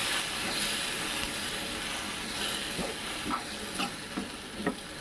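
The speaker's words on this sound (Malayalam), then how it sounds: "വിനാഗിരി ഒഴിച്ചു കൊടുക്കുക കുറച്ച്." A continuous hissing sizzle fills the pan as vinegar is poured into the hot pickle mix, with a few soft bubbling pops near the end.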